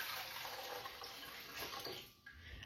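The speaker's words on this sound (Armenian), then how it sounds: "Ավելացնում սառը ջուր" Cold water pours steadily into a pot used for preserving grape leaves, a close, continuous rushing splash that thins out briefly near the end.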